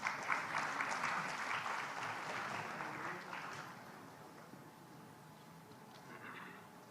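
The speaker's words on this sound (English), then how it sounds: "Let's welcome him with a round of applause." Audience applause welcoming a university Vice Chancellor at a formal function in Odisha: sustained clapping from a large gathering, fairly distant, strongest early and gradually tapering off.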